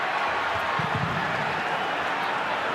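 Crowd at an A-League football match between Adelaide United and Melbourne Victory, a dense continuous roar that swells with noise, and a commentator's voice faintly mixed in.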